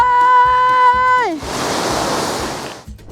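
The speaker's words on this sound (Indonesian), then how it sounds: "Air terjun Waikacura ini unik banget sebenarnya." Waikacura waterfall, which sits among rice fields in NTT, Indonesia, gives a broad rushing roar of falling water for about a second and a half after a sustained tonal hum cuts off.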